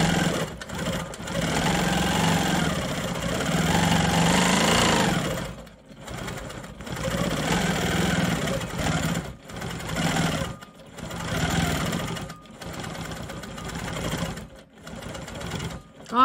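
A Quilt Maker Pro 20 quilting machine stitches slowly over earlier quilting lines on a quilt block. The motor whirs steadily and close, pausing briefly now and then before running on.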